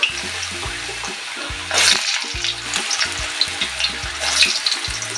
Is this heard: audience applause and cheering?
no